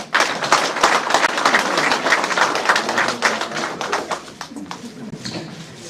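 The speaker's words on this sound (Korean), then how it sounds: "큰 박수 부탁드리겠습니다" Audience applause at a year-end gathering of local arts figures in Hamyang, Korea, honoring award recipients; dense, steady clapping fills the room, tapering slightly toward the end, with faint voices mixed in.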